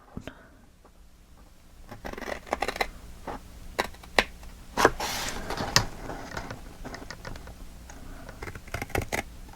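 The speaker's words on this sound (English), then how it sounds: "And then you're just going to take your scissor" Scissors cutting paper for a mini album page, with a series of sharp, close snips and crisp paper rustles in uneven bursts, some louder clicks standing out.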